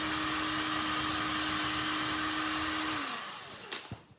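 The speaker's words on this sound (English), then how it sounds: "I'm just going to take a drill and start making some more holes" A power drill boring holes into a WoodUbend piece: a steady, close motor whir that holds even for about three seconds, then spins down and stops, followed by a couple of small clicks.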